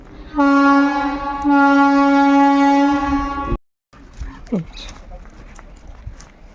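A loud freight train horn blares in two long, sustained blasts at a station on a foggy morning, then cuts off, leaving quiet rail-yard ambience and a brief voice.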